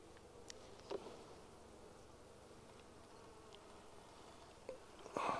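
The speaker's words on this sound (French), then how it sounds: "La ruche est cool." Honeybees humming around an open beehive, a soft continuous buzz with a few louder passes of single bees close by near the start and end, no one speaking.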